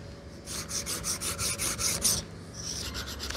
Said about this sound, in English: by increasing the pressure that I put on the blade as I'm sharpening